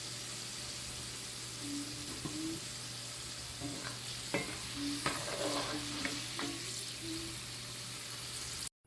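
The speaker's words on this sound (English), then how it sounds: "I am just frying those sweet potatoes" Sweet potatoes fry and get stirred in a pan, giving a steady close sizzle with intermittent scraping and clinking of a utensil against the pan, and no talking.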